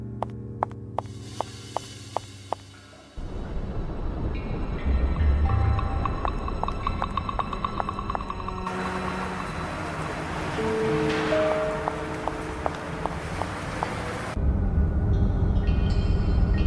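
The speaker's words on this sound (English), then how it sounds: "The 181st Street subway station." Subway train rumbling through the 181st Street station in the Art of Murder video game, a steady loud roar with metallic clanks over a low hum, lasting throughout with a brief quieter stretch before it builds.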